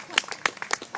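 A small audience at an educational talk on reptiles and critters gives a short burst of scattered, distinct claps, about seven sharp hits within a second.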